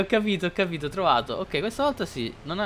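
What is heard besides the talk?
No everyday noise stands out behind the speech.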